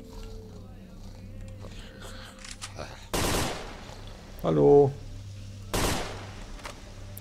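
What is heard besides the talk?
gunshots in a video game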